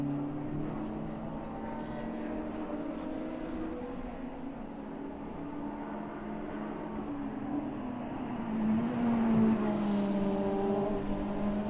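An Audi GT race car on the Autodrom Most circuit during an endurance race, engine drone heard from a distance and swelling louder near the end as it approaches and passes.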